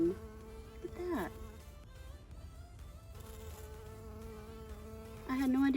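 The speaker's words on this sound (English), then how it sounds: "I had no idea bumblebees liked azaleas so much." A bumblebee buzzes close by among white azalea flowers, its hum rising and falling in pitch as it moves through the blossoms, loudest at the start and end.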